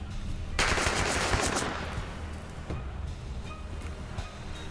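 A WW2 squad opening fire in a turn-based strategy game, a sudden loud burst of massed machine-gun and rifle fire that rattles on for about a second and a half before fading into a lingering rumble.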